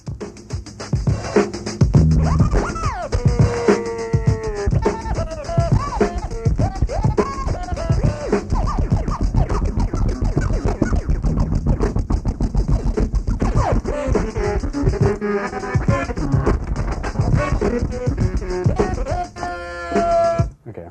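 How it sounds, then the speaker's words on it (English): A tweet scratch played on a turntable, the platter pushed back and forth by hand in a percussive rhythm of short chirping bursts, loud and continuous over a dense backing track with no talk. "So I'm like just like moving the platter with both of my hands. And that way you play a percussion. So that's the tweet scratch."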